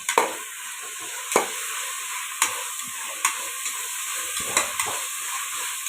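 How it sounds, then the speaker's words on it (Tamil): Mint and coriander leaves sautéing in biryani masala for Vaniyambadi chicken biryani: a soft constant sizzle broken by about eight sharp spatula scrapes against the pan, spaced roughly a second apart, close and clear. "ஒரு கைப்பிடி அளவு கொத்தமல்லி இதை இதோடு சேர்த்து வதக்கலாம்"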